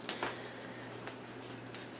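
A Ninja Coffee Bar coffee maker beeps when finished brewing, giving two clear, steady high-pitched tones about half a second long with a short gap between them over a low kitchen hum.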